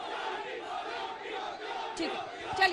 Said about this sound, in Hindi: अंजना जी, किराए की भीड़ आई है।